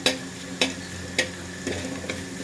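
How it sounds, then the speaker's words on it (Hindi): Paneer curry frying in a pan makes a soft, steady sizzle close by, punctuated by four or five sharp clicking taps from a spoon against the pan at roughly even intervals. "इतना ही से फ्राई करना है।"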